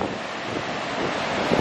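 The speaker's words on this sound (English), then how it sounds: "really wants me to show you the waves right now" Steady roar of ocean waves and surf along with buffeting wind on the microphone at the coast on a morning surf check. Broadband and continuous, with no speech.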